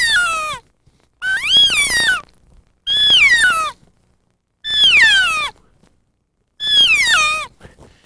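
Five separate elk alarm or alert mews are imitated by a human caller. Each one is loud and close and lasts under a second, rising and then falling in pitch, with short silences between calls.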